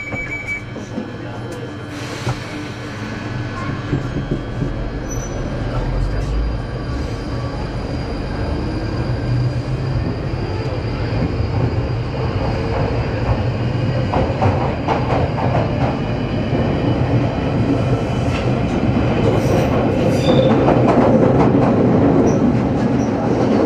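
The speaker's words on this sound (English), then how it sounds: "This train is now ready to depart" A train departs in England, rumbling and building speed, wheels clattering and squealing on the rails, a steady loud roll that grows over time.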